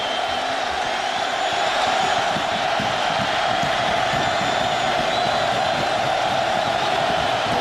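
Large stadium crowd at an Iowa college football game against Ohio State in 2006, a broad steady roar of cheering that stays loud and distant without letting up.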